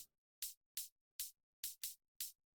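Crisp hi-hat sample ticks for a drum and bass track repeat seven times in a steady, slightly uneven rhythm, each bright and short, with silence between hits.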